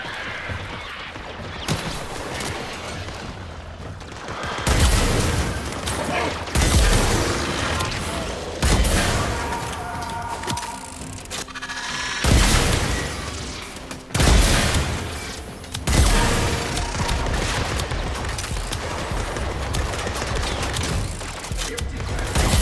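Primary weapon gunfire in the video game Warframe during a mastery rank test: loud bursts of shots and booming impacts repeat across the stretch, with crashing hits between volleys.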